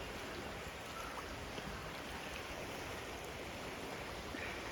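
A riverside stream flows with a steady, broadband wash of running water, continuous and fairly close, with no voices.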